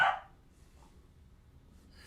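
One short, sharp dog bark at the very start, fairly close, followed by a quiet room with faint low background noise.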